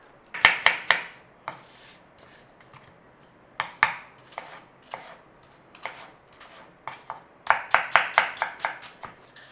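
Granny Smith apples being peeled with a knife over a bowl, a run of crisp, close scraping strokes and blade taps in uneven bursts, with short pauses between clusters and no talk.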